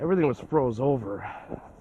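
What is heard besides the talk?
No distinct noise like a dog, phone or traffic.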